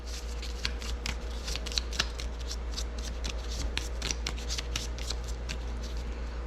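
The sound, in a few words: shuffling a deck of cards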